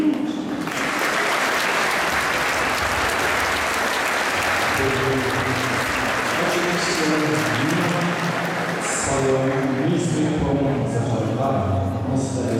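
Enthusiastic audience applause fills an evening dance tournament gala in Kraków, a dense, loud, sustained clapping that carries on throughout, with music and a speaking voice layered over it.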